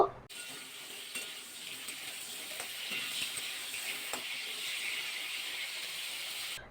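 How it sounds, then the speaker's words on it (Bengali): Pointed gourd pieces fry in hot mustard oil in a wok, giving a steady, bright sizzle throughout, with a few soft clinks from stirring and no talking. "প্রথমে কিন্তু পটলগুলো ভাজা করে নেব দুবারে ভাজা করে নেবো"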